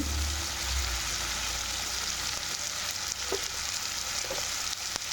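Potatoes fry in a pan with an even, close sizzle lasting several seconds, with a couple of faint stirring knocks and no voices.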